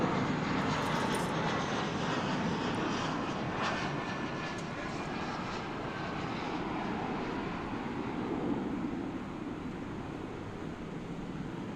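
American Airlines flight 1634 departs Dallas/Fort Worth airport in the evening, a steady, moderately distant jet engine rumble that holds fairly even throughout without any voices.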